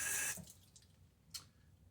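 Tap water splashing briefly as shaving soap is rinsed off, a short loud gush that cuts off, followed by faint drips and a small splash.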